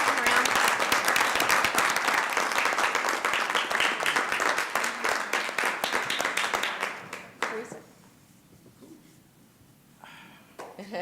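An audience at a city council meeting applauds with loud, dense clapping for about seven seconds. The clapping then tapers off, leaving a quieter room with scattered sounds and some voices.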